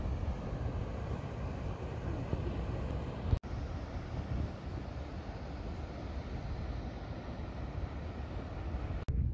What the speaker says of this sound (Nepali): खोलाको आवाज सुन्न सक्नुहुन्छ तपाईँहरूले है, पुरा मस्तको बगिरहेछ खललललल